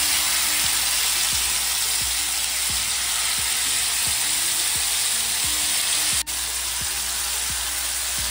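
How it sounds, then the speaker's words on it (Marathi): Chicken pieces fry in hot oil in a pan with a constant dense sizzle, and faint regular ticking taps sound underneath; no voices. "तेल गरम झाल्यावरती चिकनचे पीस टाकलेले आहेत स्नेहाने"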